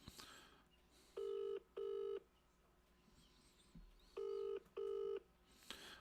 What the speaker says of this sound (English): I'm ringing Alan because he ain't turned out, as always.